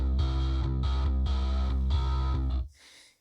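A distorted, gritty bass riff plays in three loud repeated phrases with short gaps, then cuts off, leaving a faint fizzy tail.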